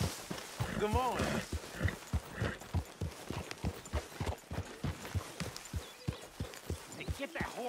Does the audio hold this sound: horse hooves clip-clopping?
yes